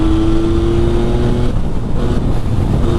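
Engine of a 2024 Yamaha MT-09 motorcycle in sport mode as the throttle kicks open, a loud steady motor drone with a sustained tone that breaks into rougher, grittier revving partway through.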